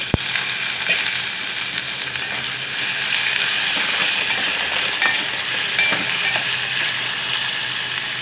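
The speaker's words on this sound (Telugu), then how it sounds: "అవి నీళ్ళన్నీ ఉడికిన తర్వాత ఇట్లా పోపు వేసుకోవాలి" Spices for a tempering crackle and sizzle in hot oil for a ridge gourd curd chutney, a steady, close frying hiss with faint clinks from stirring throughout.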